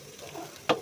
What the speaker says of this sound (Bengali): আদা, পেঁয়াজ, রসুন বাটা দিয়ে দিয়েছি, কাঁচামরিচ, লবণ। এখন এটা একটু ভাজা ভাজা হোক।